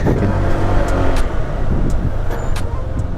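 Busy city avenue traffic in Naga City during fiesta season, a steady dense roar of cars, buses and trucks passing nearby with a brief hiss like an air brake, no talk.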